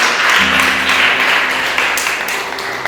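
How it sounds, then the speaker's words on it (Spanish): A church congregation breaks into applause, a dense wash of clapping that swells and then tapers over a few seconds. It sounds moderately loud and carries room echo, with a faint voice underneath. "Démosle ese aplauso a nuestro abogado."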